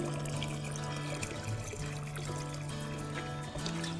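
Water pouring steadily to fill a garden watering reservoir in an organic vegetable garden, a continuous trickling and splashing stream heard close up without talk.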